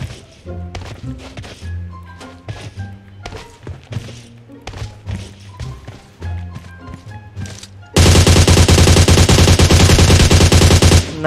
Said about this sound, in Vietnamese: thằng nào bên kia bắn tao?